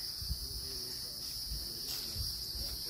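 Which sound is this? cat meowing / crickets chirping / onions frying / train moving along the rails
crickets chirping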